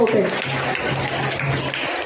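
Enthusiastic applause from an audience at a school birthday celebration, a dense steady wash of clapping filling the whole moment with a faint low hum underneath.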